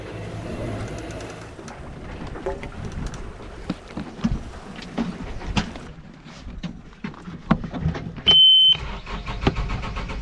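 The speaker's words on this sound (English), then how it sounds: "Motor's on." A sailing boat's motor running at sea on an Atlantic crossing gives a low, steady hum, joined by scattered clicks, knocks and a brief whirring near the end, all fairly quiet.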